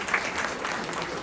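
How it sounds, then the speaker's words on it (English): Applause from an audience at a community family night event in New York, a dense even patter of many hands clapping throughout, steady and fairly loud with no gaps. "Huge round of applause for Shahana Hanif."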